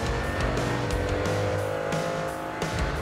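Mercedes AMG GT4 race car lapping the Barcelona circuit in an FFSA GT pole lap, engine roaring steadily from onboard with shifting revs and tire noise throughout, loud and continuous.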